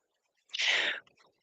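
A single sharp sneeze bursts out close by, a brief hissing blast with a quick breathy tail, surrounded by silence.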